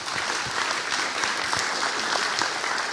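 Audience at a Spokane community meeting on area wildfires applauds firefighters, a steady, dense wash of many hands clapping throughout, fairly close and loud with no break.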